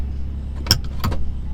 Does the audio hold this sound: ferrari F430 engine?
yes